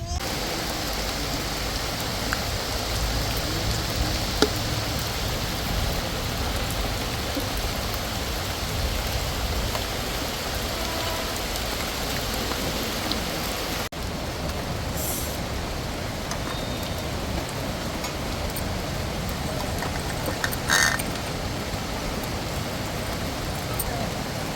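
Rain falls steadily outside as a continuous hiss that holds at an even level throughout, with a few faint voices and small knocks nearby.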